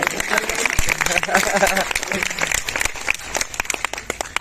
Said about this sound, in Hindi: एक बार थोड़ी और ताली हो जाएगा